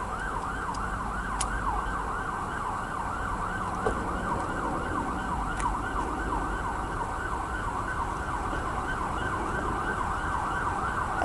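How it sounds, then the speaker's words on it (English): A siren wails rapidly up and down in Peckham, London, continuous and fairly loud over steady traffic noise, with no talking. "And that's a siren in the background"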